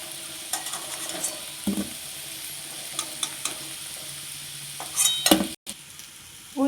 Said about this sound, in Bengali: আমার আলু ভাজা হয়ে গেছে। এবার আমি আলুগুলো তুলে রাখবো।